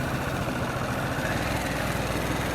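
A Harley-Davidson Sportster S motorcycle engine runs steadily with a low, pulsing rumble, continuous and fairly close, with no voices.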